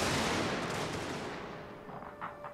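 Massed musket volleys and canister fire from troops in a Napoleonic-era battle game, Russian army, a dense continuous roar of overlapping shots that slowly tapers, with scattered sharper reports near the end.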